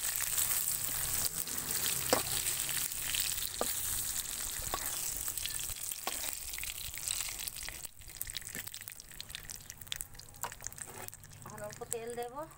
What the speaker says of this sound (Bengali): দেখুন মাছ ভাজাটা হয়ে গেছে, এখন নামিয়ে দিচ্ছি